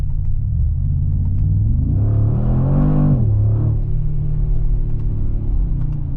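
A 600 HP Mercedes G-Wagon accelerates hard in first gear from inside the cabin, its deep engine rumble rising to a loud swelling roar midway before dropping back to a steady drone.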